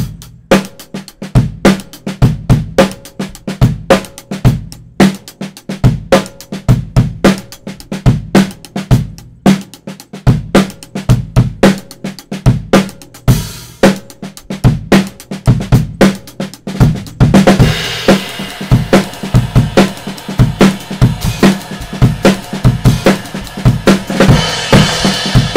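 A fast drum and bass style groove played on an acoustic drum kit, with long and short patterns layered over dense kick, snare and hi-hat, loud and close, swelling into washy crashing cymbals for the last stretch.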